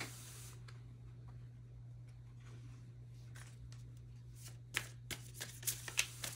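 Tarot cards shuffled and drawn by hand, a soft rustle early on that turns into a run of crisp, close card flicks and snaps near the end over a steady low background hum.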